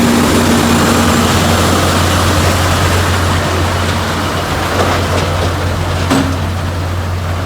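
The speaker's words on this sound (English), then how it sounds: "Load it onto this machine, grinds it up, and makes" A heavy grinding machine chews leftover material into filler, producing a loud, constant low roar with a steady engine drone and gritty broadband rumble throughout, without pauses.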